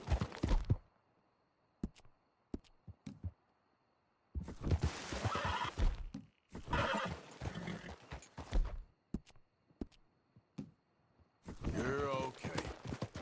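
A horse in Red Dead whinnies loudly in bursts amid scattered hoofbeats and galloping, with quiet gaps between; someone speaks softly to it at moments.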